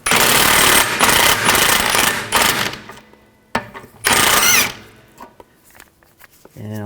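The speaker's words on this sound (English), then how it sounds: "I'm going to loosen this nut up, not take it off completely, but just loosen it at this point." An impact gun loosens the rear shock absorber nut on a 2004-2010 Toyota Sienna with a 19 mm socket, hammering loudly and close in two long rattling bursts with shorter ones between, and someone briefly speaks.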